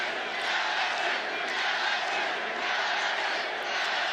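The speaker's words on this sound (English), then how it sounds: "LSU crowd has come alive here." Stadium crowd roaring and cheering at an LSU college football bowl game, a loud, sustained wash of many voices that swells slightly and holds steady throughout, with no distinct speech.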